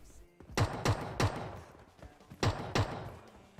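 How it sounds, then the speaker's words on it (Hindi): Sharp gunshots crack in a PUBG Mobile match, a pair of quick shots, then another, and after a pause two more, each with a short decaying tail, fairly near and alone. "अब ये कहां से गोली चला रहा था नहीं पता चलता मेरे को।"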